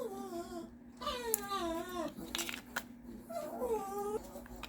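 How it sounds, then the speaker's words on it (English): A dog whines in high, wavering cries, rising and falling in several drawn-out bursts close by, with a steady low hum underneath. "if you hear my dog in the background, he is whining for donuts"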